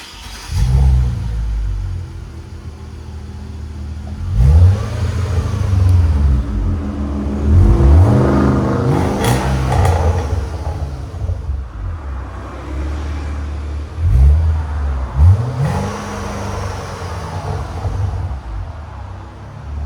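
A 2015 Kia K900 with a 5.0L V8, X-pipe and Valvetronic Designs universal mufflers, valves closed, revving repeatedly: a deep, muted engine rumble rising and falling in several blips over a steady idle, close and loud.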